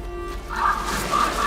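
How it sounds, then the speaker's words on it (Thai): Crows caw in A Plague Tale: Innocence, two harsh, drawn-out calls a moment apart over a low ambient hum, moderately close and alone. "โอ้โหอีกาอีกา"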